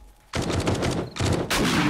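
Round grenades explode on impact in a survival zombie game during a blood-moon night, a dense rapid string of loud crackling blasts filling the scene, bursting in three close clusters after a brief quiet start.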